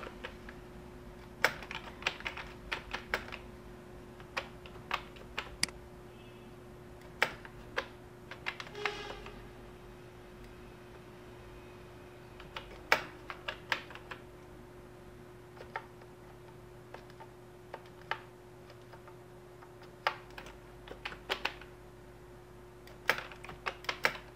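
Keys on a computer keyboard are tapped in irregular bursts of clicks, some single and some in quick runs, against a quiet room hum with no voices.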